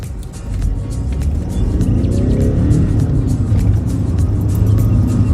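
Seat Ibiza FR car on the drive home along a back route, its engine a steady loud low rumble with road and tyre noise swelling slightly as it gathers speed, heard from inside the cabin.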